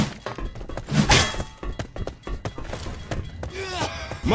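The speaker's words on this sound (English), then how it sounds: "Molotov!" A Molotov cocktail bottle smashes in Left 4 Dead 2, with heavy thunks and a sharp glassy shatter near the start followed by scattered impacts and faint game voices in a busy combat scene.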